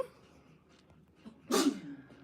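A single sharp sneeze bursts out after a quiet stretch, loud and close, with a brief breathy tail.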